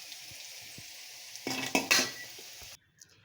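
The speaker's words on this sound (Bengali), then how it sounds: "আলুটা এই যে তেল থেকে আমি আলুটা তুলে নেব।" Red-fried potatoes being lifted out of hot oil: a steady background sizzle, then a short flurry of a slotted spoon scraping and clinking against the pan before the sound cuts off.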